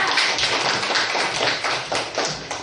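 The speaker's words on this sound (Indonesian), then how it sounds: "tepuk tangan dulu buat kelompok 2" A classroom of students claps for a student group, a brisk, close patter of many hands with uneven bursts that carries through the whole stretch with no talking.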